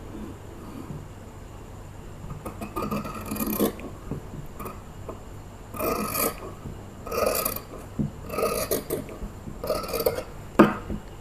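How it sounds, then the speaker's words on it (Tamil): Scissors cut through blouse sleeve fabric in a series of short, close rasping snips, bunched into repeated bursts with brief pauses between, no talk. "விரித்து போட்டுட்டு இப்போ கட் பண்ணிக்கலாம்."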